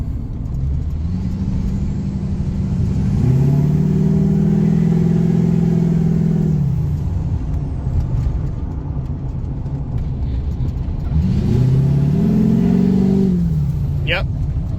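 A 2006 GMC Sierra with a Duramax diesel engine in limp mode pulls under load, its low engine drone rising and falling in two long swells, steady and close throughout with no talking.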